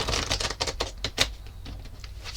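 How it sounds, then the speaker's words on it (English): Matte-finish Wisdom of Pooh tarot cards are shuffled by hand, a rapid run of dry, papery flicks and taps in quick irregular bursts, close and crisp with no talking. "I know people cringe when I shuffle my cards like that."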